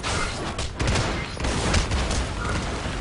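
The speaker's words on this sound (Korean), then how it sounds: "적 포탑을 포격합니다." Artillery in the Marvel End Time Arena game fires on an enemy turret: a dense, continuous barrage of loud booming shots and gunfire-like blasts for about three seconds, with no pauses and no voices.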